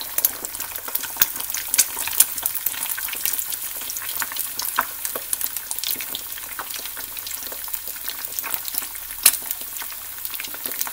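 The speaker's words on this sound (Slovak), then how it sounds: "Následne budeme vajcia prážiť." Eggs fry in hot oil in a pan, a close, continuous fine crackle with scattered pops and a few louder spits, no voices present.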